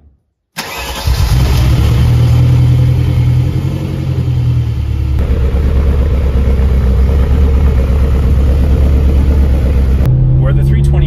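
Ferrari 328 engine cranks and fires up, then idles loudly with a steady mid-range rumble and a brief blip of revs near the end, close to the car with no talking.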